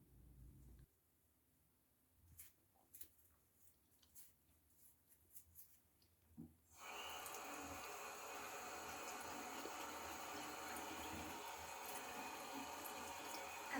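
A bathroom tap is turned on partway through and runs in a steady, moderately loud stream while someone brushes their teeth, after a quieter stretch of small scattered knocks and clinks.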